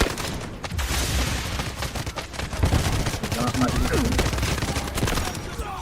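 Dense, sustained gunfire from Delta Force, the mobile first-person shooter, with overlapping bursts and rapid shots rolling almost continuously at a loud level.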